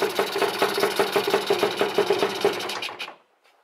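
A Lambretta scooter engine idles with a steady, rapid pulsing rhythm close by, then is switched off around three seconds in and quickly dies away to near silence.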